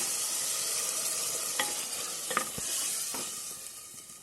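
Water is poured into a frying pan of spiced curry base for a Bengali bata fish curry, giving a steady, fairly loud sizzle with a few soft clinks and stirring scrapes. There is no talk.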